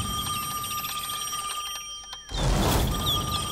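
A cartoon telephone rings with a steady electronic trilling tone, then a loud whooshing burst cuts in over it partway through, with no talking.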